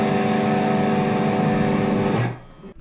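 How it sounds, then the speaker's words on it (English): A sustained, buzzing distorted electric guitar chord rings steadily, then cuts off abruptly near the end, leaving a brief low rumble. "When you add distortion, you're actually clipping the sound wave."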